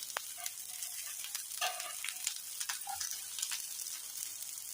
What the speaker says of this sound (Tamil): உப்பை போட்டு வதக்குனீங்கன்னா வெங்காயம் சீக்கிரத்தில் வதங்கிடும்